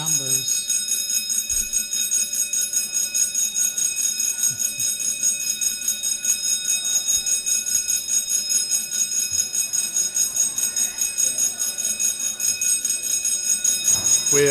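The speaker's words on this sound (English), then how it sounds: "There's a fire alarm going off" A fire alarm rings steadily in a legislative chamber during a session, a continuous high electronic tone with overtones sounding loud and unbroken throughout, with faint room noise beneath.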